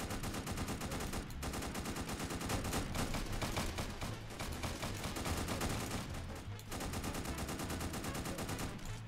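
Gunfire in a Roblox video game sounds as dense, continuous rapid shots and bursts, loud and layered with hardly a pause.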